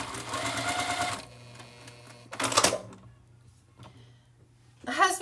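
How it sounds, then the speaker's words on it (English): A domestic sewing machine stitching pieces of a Christmas tree quilt top, running in a steady mechanical whir for about a second, then short bursts of stitching after pauses, close and fairly quiet. "So this part is just easy sewing."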